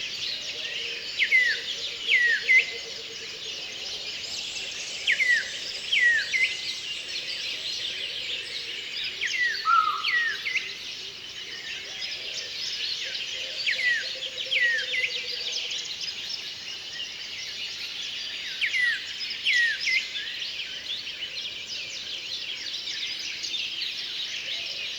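Rare forest birds singing in primary forest, with repeated high chirps and trills scattered over a steady dense insect-like buzz, moderately distant, no voices.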